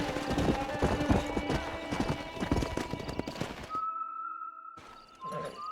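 Horses gallop with rapid, dense hoofbeats in the Western video game Red Dead Redemption, loud and close for most of the stretch before cutting out abruptly, followed by a brief tonal hum and a short resumption of sound.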